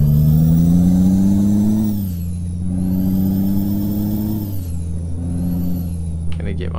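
A Peterbilt 389 truck engine in Euro Truck Simulator 2 pulls steadily with a deep droning rumble, its pitch rising in stages as gears change, loud and close throughout.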